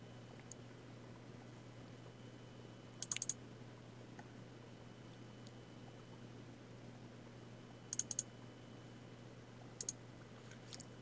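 Computer mouse clicks and keyboard taps come in small, sharp clusters against a quiet room hum, close by and faint, with long pauses between the bursts and no talk.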